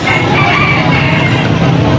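Rooster crowing and clucking at a market where fighting cocks are sold, loud and close over a busy background of voices and passing vehicles.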